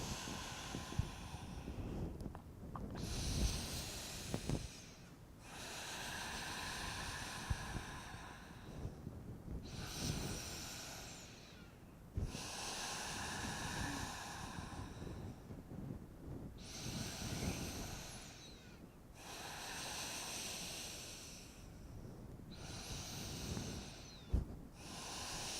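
Slow, deep breaths during a yoga forward fold, with long soft airy inhales and exhales alternating in a steady rhythm, close and quiet, with no voice over them.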